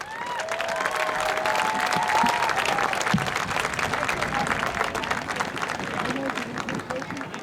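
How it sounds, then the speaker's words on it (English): Steady applause from a large crowd, dense clapping with some cheering and chatter mixed in, sustained throughout without a break. "if you could give her a round of applause"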